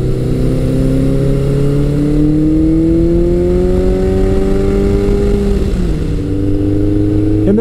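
A Suzuki GS1100 motorcycle engine pulls hard under sustained acceleration, its loud, close exhaust drone rising steadily in pitch before a brief dip as it shifts gear and carries on.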